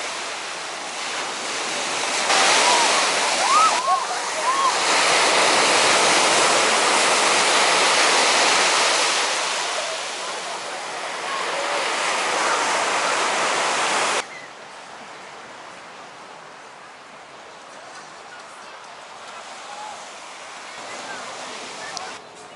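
Steady roar of surf breaking on Cleopatra Beach in Turkey, loud and continuous, easing off later into a softer wash of waves.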